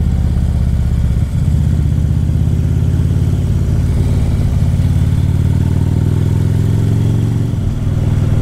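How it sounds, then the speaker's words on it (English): A motorcycle rides along a road on a mid-November day on the way to the Redwoods. The engine drones loud and steady and close up throughout, with slight shifts in pitch as the rider works the throttle. "it's a great day to take the bike out for a ride"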